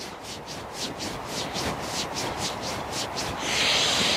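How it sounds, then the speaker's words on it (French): Fingers rub against the ears during a qi gong kidney exercise, giving a close, steady rhythmic scraping and rustling of skin that pulses about twice a second and swells louder near the end, with no talking. "on met les doigts en épée et on vient frotter les oreilles"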